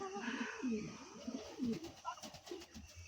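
Pigeons at a farm coo faintly and repeatedly in low, rolling bursts, a few softer chirps mixed in, with a voice murmuring quietly in the background.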